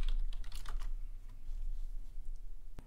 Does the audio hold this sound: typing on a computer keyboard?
yes